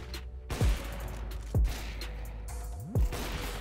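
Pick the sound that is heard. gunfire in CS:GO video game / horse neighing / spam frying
gunfire in CS:GO video game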